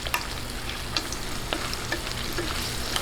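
Carrots fry in oil over medium heat, giving a steady, soft sizzle broken by light stirring scrapes and clicks, close by and with no voices.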